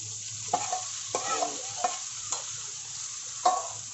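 Tomato frying in a masala gravy, a steady low sizzle broken by five sharp spatula scrapes at irregular intervals, close and alone without talk.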